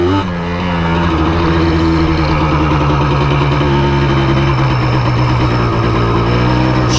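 Yamaha Blaster quad engine running loud and close, a steady buzzing drone with pitch shifts as it revs and shifts.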